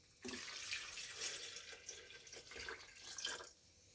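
Half a liter of water pours into a food processor filled with purple tomatillo fruits, a close, steady splashing stream for about three seconds before it stops.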